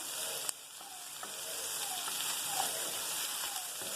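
Red and green bell peppers sautéing in a pan for paneer fried rice, giving a soft, steady sizzle with a few faint spatula scrapes and taps.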